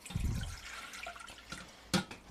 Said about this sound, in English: I'm going to start out with 2 cups of water